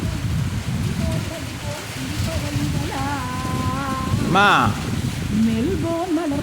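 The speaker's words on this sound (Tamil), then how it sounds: "உனக்கு மழை வேறு பெய்யுது" Steady rain falls outside a home as a constant broadband patter, with voices talking over it.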